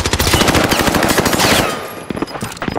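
Rapid, loud automatic gunfire in Call of Duty: Modern Warfare, a dense burst of shots for about two seconds followed by a few scattered rounds and echoing tail.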